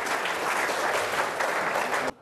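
Sustained audience applause welcoming footballer Dong Fangzhuo on stage, steady dense clapping for about two seconds before cutting off abruptly.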